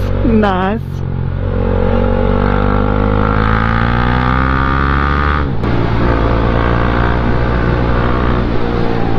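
A KTM 390 Duke motorcycle accelerates with a slipping clutch, its engine note climbing steadily and loudly before dropping briefly at a gear change and rising again, under a rider talking.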